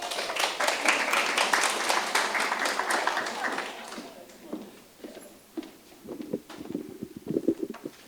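Audience applause at a councillor candidates' forum in Sooke, a dense burst of clapping for about four seconds that fades out, followed by scattered voices and talk.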